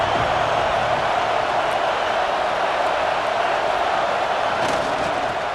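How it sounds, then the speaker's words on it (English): Stadium crowd noise from the College Football 26 video game forms a steady, even roar with no distinct cheers or voices standing out. "This crowd trying to make life miserable for this offense."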